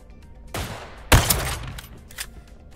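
Gunfire in the spy shooter Deceive Inc: a short burst of rapid shots, then a louder sharp volley with a ringing tail and a few trailing pops, close and prominent.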